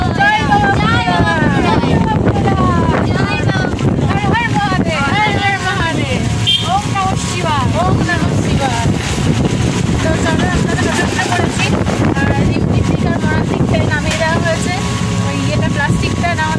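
Wind gusts past during an outing to a temple in the rainy month of Shravan, roaring steadily into the microphone, while people talk and chant loudly over it throughout.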